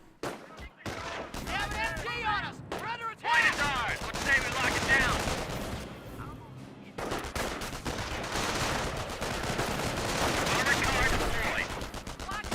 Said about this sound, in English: MG42 now advancing